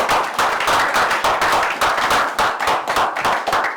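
Congregation at a church service clapping and cheering for God, a dense, steady burst of many hands applauding continuously with loud crowd energy throughout.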